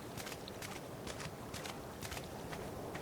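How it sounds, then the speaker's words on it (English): Footsteps splash through water in the ARK game's Madagascar Evolved map. About a dozen evenly paced steps sound over a constant loud hiss of water and ambience. "you can hear the footsteps for water"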